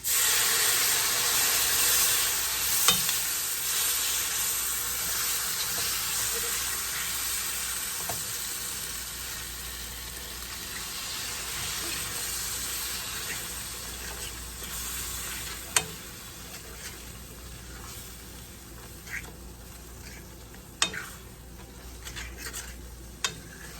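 Water poured into a pan of browned onion gravy for liver and onions sizzles and hisses steadily with steam, a continuous close frying crackle with occasional small pops and clinks, no talking.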